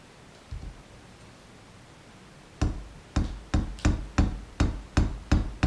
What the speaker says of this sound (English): we just really carefully and very slowly swedge this rivet over